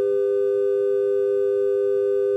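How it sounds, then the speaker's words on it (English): Two steady synthesized pure tones sound together as an equal tempered major third, held evenly and alone for a couple of seconds. "an equal tempered third"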